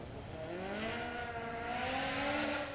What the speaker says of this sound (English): This one, natural aspirated 2-litre Honda engine. Let's hear it help.